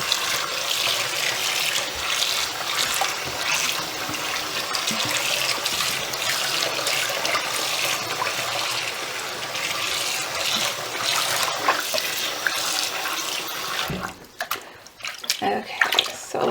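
Dyed yarn is swished and rinsed in a tub of lukewarm water, a steady loud splashing and sloshing rush that runs continuously before dropping to quieter drips and small splashes near the end.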